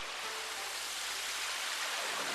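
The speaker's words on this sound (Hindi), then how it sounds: "रास्ते में उसे बहते पानी की ध्वनि सुनाई दी" Water flows steadily in a stream in a dense forest, a continuous close rushing hiss with no voices.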